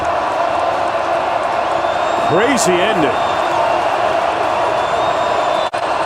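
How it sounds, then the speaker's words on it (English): A boisterous crowd roars steadily at Husky Stadium during a 2022 college football game between Michigan State and Washington, loud and continuous beneath a commentator's voice. "a boisterous crowd here at Husky Stadium"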